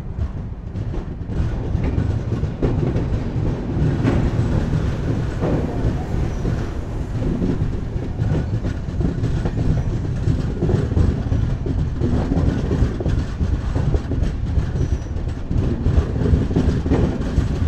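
The Mandovi Express runs along the Konkan Railway between Madgaon and Mumbai, heard from inside the coach as a loud, continuous rumble with rhythmic clickety-clack of wheels over rail joints and no talk.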